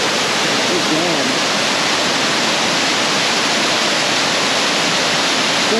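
Mossbrae Falls, a waterfall in Dunsmuir, California, pours with a loud, steady broadband roar that fills the whole clip, close and constant with no pauses.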